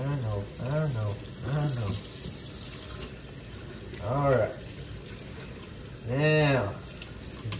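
A tap runs steadily while a guinea pig is rinsed under it, a continuous watery hiss that lasts the whole stretch, with a person's voice and repeated high squeaking calls rising over it.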